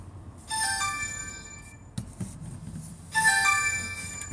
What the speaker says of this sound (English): Private number calling me.